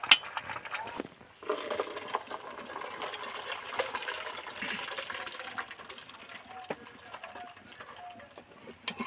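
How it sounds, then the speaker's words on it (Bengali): Water draining from half-boiled banana flower, a steady splashing pour and gurgle lasting several seconds with faint clatter, close by and without talk. "এবার জল ঝারিয়ে নেবো"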